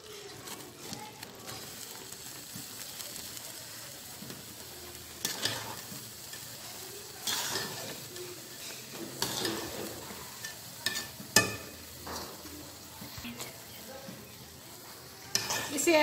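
Rice being stirred into homemade jaggery with a spoon, a soft sizzle under scraping and clinking of the spoon against the pot at irregular moments.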